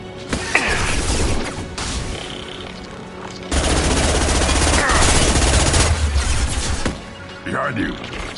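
Sustained automatic weapon fire and impacts crash loudly through a Mass Effect 2 battle, with dense rapid bursts and a heavier stretch in the middle, while voices call out over the shooting.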